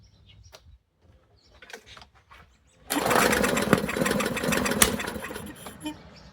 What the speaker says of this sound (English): Kind of sounds like we're getting a backfire out of it.